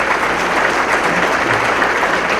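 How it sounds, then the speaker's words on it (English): Loud sustained applause from a crowd at a California policy conference opening session as the state Senate President pro Tem stands, a thick unbroken wash of clapping with faint voices mixed in. "give your round of applause"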